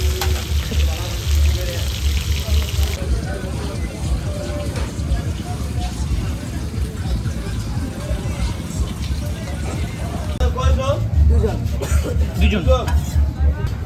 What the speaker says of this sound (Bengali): আর একদম কড়া করে ভাজি করে দিলে আরও টেস্ট লাগবে